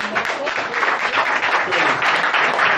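Steady applause from an audience at a live show, dense and sustained clapping filling the whole stretch at a moderately loud level.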